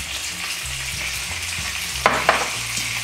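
Small octopus frying in a pan with parsley and garlic, a steady close sizzle with soft scraping and two brief louder spatters near the end.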